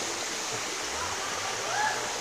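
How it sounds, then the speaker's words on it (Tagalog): Steady rushing of water from a small cascade, a constant broadband wash with no pauses, moderately near. "Nakikita nyo yung agos hanggang dito."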